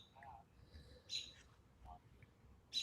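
Bird chirps come in brief, fairly faint bursts at intervals, heard indoors over a low fan hum during a live football watchalong, with no speech in the moment.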